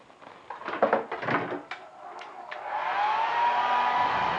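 A hairdryer starts up and blows a steady whooshing hum while thawing frozen pipes, following a few clattering knocks and handling bumps at the start; fairly close and alone with no talk.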